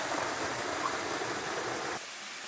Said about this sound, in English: Cool little waterfall up here in the Montecito Hills.